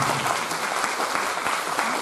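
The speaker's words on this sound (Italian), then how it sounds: "Un applauso." A conference audience at a talk on bullism applauds, a close, steady and fairly loud round of clapping filling the whole stretch without speech.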